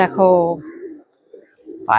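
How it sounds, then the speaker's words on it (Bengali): Pigeons feeding at a temple during Shivratri coo in short, near, low throaty bursts at the start and end of the moment, with soft crowd noise in between. "পায়রা সব খাচ্ছে সব দেখছো পায়রা কি সুন্দর"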